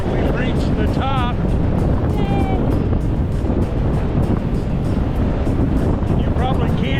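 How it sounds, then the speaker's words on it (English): Strong wind blusters continuously across the microphone on a cinder-covered volcanic summit at Craters of the Moon, a loud roaring rush with faint whistling tones and no pauses. "You probably can't hear me because of the wind. It is quite windy up here."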